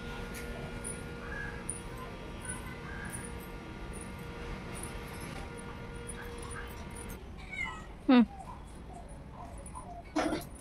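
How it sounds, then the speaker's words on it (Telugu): A pet cat in a family home during Ganesh Chaturthi gives a couple of short meows, one around the middle and another near the end, over steady household background noise. "మా పిల్లికి కూడా మనశ్శాంతి లేదు మా చిన్నోని వల్ల"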